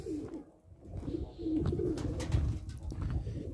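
Pigeons in a loft coo in low, soft, repeated rolling calls, close by and fairly quiet, with faint rustling and shuffling around them.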